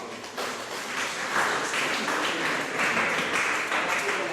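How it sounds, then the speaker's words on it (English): Audience at a high school consultation event in Bassa applauding themselves, a dense, continuous patter of clapping from a room full of people, fairly loud and sustained without pauses. "Clap for yourselves."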